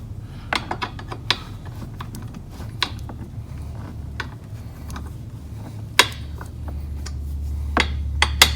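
Fasteners on a luggage rack for a Can-Am Spyder F3 being cranked down, a run of sharp metallic ratcheting clicks and clacks at irregular intervals over a low steady hum, close by.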